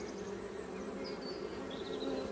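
Honeybees swarm at a busy hive in an apiary, a dense, continuous buzzing drone close by with individual bees whining past, no voices over it.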